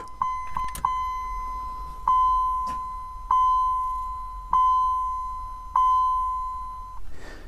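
Bright, steady electronic dinging from a GM B-body chime module fitted to a 1991 GMC Sonoma, chiming alone at an even pace of about one tone per second, with a few quicker dings at the start.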